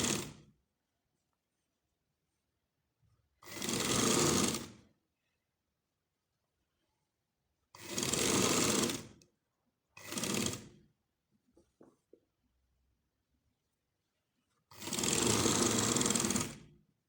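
An electric sewing machine stitching a baby frock, five separate runs of loud, even whirring lasting one to two seconds each, with silence and faint handling sounds between them.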